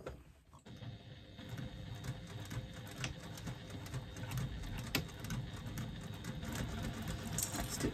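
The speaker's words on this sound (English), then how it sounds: "Now I'm going to stitch all the way down the side." Sewing machine stitching steadily down the side of a fabric pouch, a continuous close mechanical whir with a fast rhythmic patter throughout, fairly quiet and uninterrupted.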